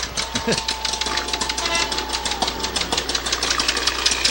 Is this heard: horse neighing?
no